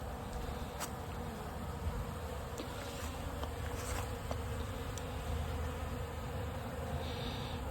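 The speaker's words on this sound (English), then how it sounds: "you'll find bees foraging like this" Honey bees buzz as they forage at pollen substitute, a steady faint hum of many insects close by with no voices.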